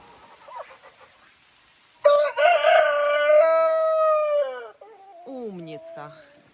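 A wet chicken on a farm gives a long, loud, drawn-out crowing call close by, preceded and followed by quieter vocal sounds.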